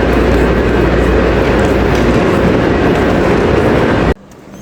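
A train from Madinah pulls into Mecca railway station with a loud, steady rumble and rattle of rolling cars that stays close and dense before cutting off abruptly to near quiet.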